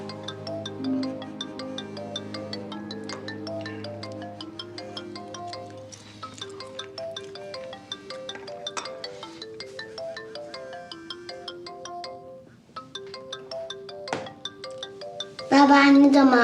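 A phone ringtone plays a repeating electronic melody for the whole stretch, fairly close and clear, ending with a sudden louder burst of sound near the finish.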